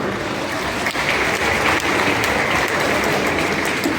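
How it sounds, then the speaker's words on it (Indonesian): A crowd applauds with dense, continuous clapping that stays loud and steady throughout. "Tepuk tangan"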